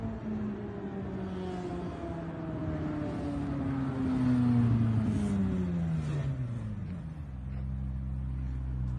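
McLaren supercar accelerating hard down a street, a rising engine roar that swells loudest midway and then falls away as it passes, heard from outside with no talk.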